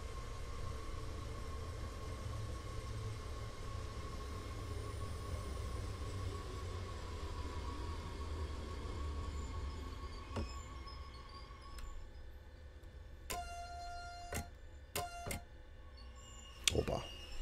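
A DB class 422 electric multiple unit rumbles along steadily in Train Sim World 2 on the Rhein-Ruhr Osten route, a low continuous drone with sharp clicks and short tonal beeps near the end.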